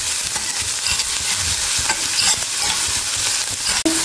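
Onion, curry leaves and green chili fry loudly in a pan for boiled egg masala, a dense close sizzle with scraping stirs and a brief sharp knock near the end.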